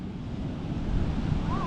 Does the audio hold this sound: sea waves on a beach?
yes